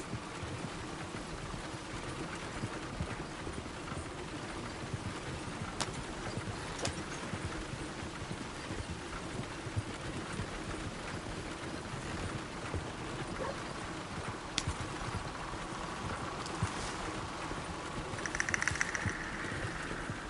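Horse hooves clip-clopping in Red Dead Redemption 2, a steady unbroken trot along a road for the whole stretch, moderately loud under a low ambient rumble, with no speech.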